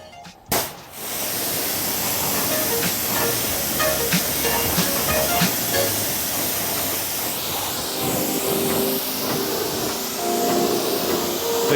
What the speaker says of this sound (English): So you want to try to push it up with the stream from the pressure washer